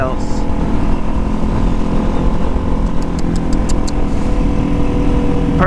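A loud, steady Kawasaki ZX-6R sport motorcycle engine drones and revs throughout, close by, with a few sharp ticking clicks partway through.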